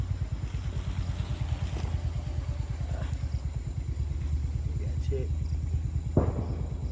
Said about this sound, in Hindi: अन्हार तेहन छै जे बाइक स्टार्ट कऽ कऽ छोड़ऽ पड़ल है।